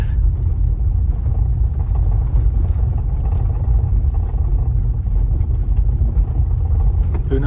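A car driving along a road, heard from inside as a loud, steady low rumble of engine and road noise with faint rattles, continuous throughout.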